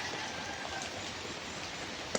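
Heavy rain falls outdoors as a steady, fairly quiet hiss of dense drops, with one sharper splash near the end.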